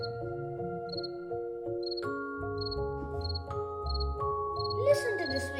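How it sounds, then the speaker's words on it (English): Cricket chirping within a children's storybook read-aloud about a giraffe, with short repeated high chirps recurring steadily over gentle background music. "Excuse me, coughed a cricket, who'd seen Gerald earlier on."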